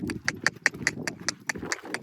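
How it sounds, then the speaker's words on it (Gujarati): A mare's hooves clip-clop in a quick, regular rhythm, close by, about ten sharp hoof strikes in two seconds. "બે ઘોડીઓ ભેગી થાય છે"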